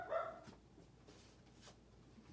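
A puppy indoors gives a quick, faint bark or two at someone walking by, then falls quiet.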